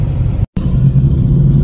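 A car rolls along a busy road in traffic, giving a short, steady, loud engine rumble that cuts out briefly partway through.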